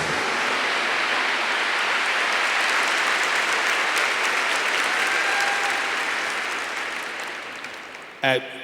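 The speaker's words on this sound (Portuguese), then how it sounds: "Give the Lord a big clap for His beautiful revelation" A church congregation applauds at a deliverance ministry gathering, a dense, steady wash of clapping that holds for several seconds before gradually thinning out, with a brief louder sound at the very end.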